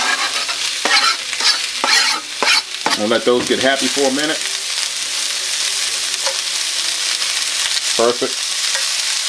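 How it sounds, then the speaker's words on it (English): Onions sear in a hot skillet while being stirred, giving a loud, continuous close sizzle with occasional scraping, and a person talks briefly over it. "You can hear our sear happening."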